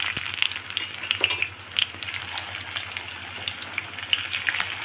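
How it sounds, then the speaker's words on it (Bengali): Pieces of food fry in hot oil with a busy crackling sizzle, broken by sharp pops and a few stirring clicks, while a faint watery gush sits underneath. "একইভাবে সব ভেজে নেব"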